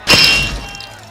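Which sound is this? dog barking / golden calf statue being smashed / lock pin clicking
golden calf statue being smashed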